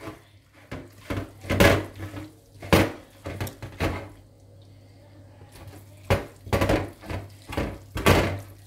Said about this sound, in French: Là, je vais mélanger.